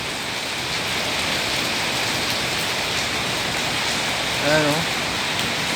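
Steady morning rain hisses evenly throughout, with a brief voice speaking near the end.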